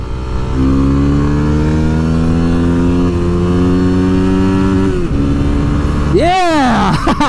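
A Yamaha WR250R dual-sport motorcycle climbing the Pikes Peak mountain road holds a steady droning engine note under the rider's talk, then snaps through a sharp rev near the end, loud and close.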